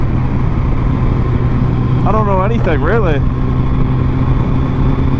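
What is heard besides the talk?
Suzuki Hayabusa motorcycle engine running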